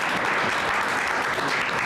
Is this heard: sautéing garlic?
no